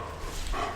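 A German Shepherd barking in a room, a single short, close bark.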